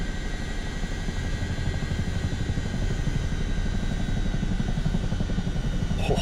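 An Airbus H125 helicopter engine in Microsoft Flight Simulator 2024 gives a steady, loud, close drone: a low throbbing rotor pulse under a whining turbine hum that holds even for several seconds.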